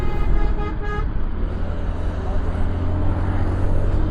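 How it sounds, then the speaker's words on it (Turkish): A car horn blares for about a second in traffic, then fades into a loud, steady rumble of engine and road noise nearby. "niye kornaya asılıp frene basıyorsun yolun ortasında?"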